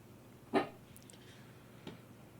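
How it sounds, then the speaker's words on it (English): A dog gives a single short, sharp bark or yelp nearby in an indoor room, followed by a fainter second sound a moment later, against quiet background hiss. "Yes, you are a dog."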